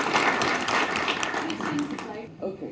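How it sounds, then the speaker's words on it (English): A conference audience applauds a keynote speaker at a game industry event, a dense wash of clapping that stays steady, then thins near the end, with voices mixed in. "So please give her a huge round of applause"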